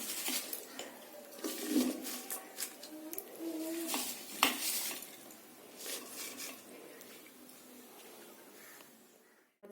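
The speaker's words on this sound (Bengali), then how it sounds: "কুমড়ো শাকটা আমি প্রেসার কুকারে দিয়ে দিচ্ছি।" Pumpkin greens and stalks go into a pressure cooker in a home kitchen, with faint rustling, soft clinks of metal and a light watery splash. The sounds are quiet and scattered, then fade toward near silence at the end.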